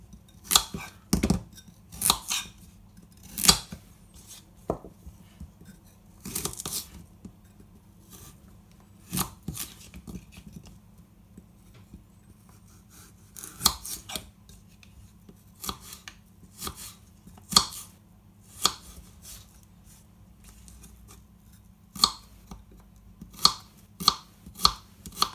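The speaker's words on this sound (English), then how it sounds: "I've peel the carrots, so now I'm going to just chop them finely as well." A knife finely chops carrots on a cutting board in sharp, irregular clicks, sometimes in quick bursts, close by with no talking.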